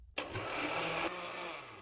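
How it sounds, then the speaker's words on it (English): A blender whirs steadily, mixing a batter of milk, oil, salt and oregano. The motor sound is loud and continuous, drops slightly in pitch about a second in, then keeps running at a steady level. "Now I close the blender and mix well."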